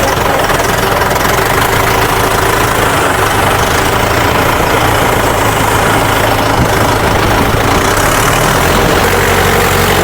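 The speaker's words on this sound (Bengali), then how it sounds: "বাইকে ছাড়লাম" A motorcycle engine idles steadily after starting, a loud, continuous low rumble with knocking vibration that stays unbroken for about ten seconds, close to the microphone in an open field.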